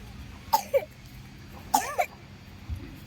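A child with a bad cough coughs in two separate short double bursts, fairly close, against a quiet outdoor background with a faint low sound near the end.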